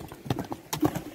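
Horse hooves clip-clopping in an uneven series of close, sharp knocks, with a brief snort or whinny-like sound among them.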